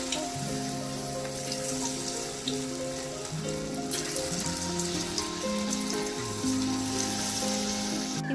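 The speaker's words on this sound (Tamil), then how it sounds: "ஒவ்வொன்றா போட்டு ஃப்ரை பண்ணிக்கலாம்." Paneer pieces for chili paneer frying in hot oil, a steady dense sizzle and crackle running throughout, close and fairly loud, with no voices.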